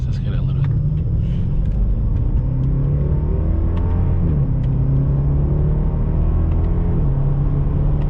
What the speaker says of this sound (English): And you can hear the V8.